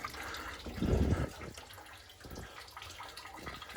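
Water dripping and trickling from a 1.5-inch water main line coming off the meter, a brief louder splashing burst early on, then a faint continuous trickle.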